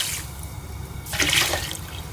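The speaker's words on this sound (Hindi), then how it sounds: "गिलास जो है वो पानी शामिल कर लेंगे" Water is poured into mango puree and sugar in a pot while making homemade mango squash, a soft splashing pour that swells to a brief louder gush midway, close and fairly quiet.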